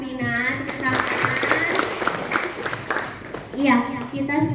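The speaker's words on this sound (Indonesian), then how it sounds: "terima kasih Safina. Tepuk tangan" Culinary class clapping for a student after a mayonnaise-making presentation, a dense patter of applause across the room under voices, with talking and children's chatter mixed in.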